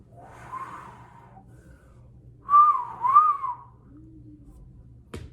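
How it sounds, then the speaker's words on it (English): A person whistles a short tune close by in a quiet room, two wavering phrases separated by a pause, followed by a soft low hum and a faint click at the end. "that's not even the right whistle tone"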